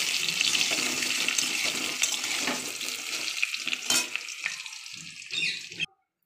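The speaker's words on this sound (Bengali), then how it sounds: "আমার আলু ভাজা হয়ে এসছে," Potatoes frying in oil give a loud, dense, close sizzle that gradually thins into sparser crackles and stirring clicks before cutting off near the end.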